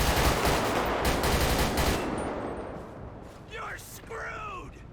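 Gunfire in the police video game LSPDFR, a dense burst of rapid shots for the first two seconds that fades into game noise and a few fragmentary voice sounds.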